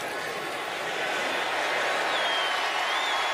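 Home crowd at an NFL preseason game in Indianapolis cheering for veteran kicker Adam Vinatieri before a 57-yard field goal try, a broad steady roar of a stadium crowd that swells slightly toward the end.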